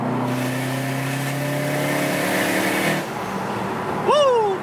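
Subaru STI with a newly installed intake, its engine held at a steady, loud rev that drops off after about three seconds. A voice whoops briefly near the end.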